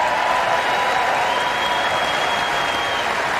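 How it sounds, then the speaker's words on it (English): Sustained applause and cheering from members of Congress during a presidential State of the Union address, a steady roar of many hands and voices filling a large chamber, heard at a distance and without pause. "And there they are cheering themselves."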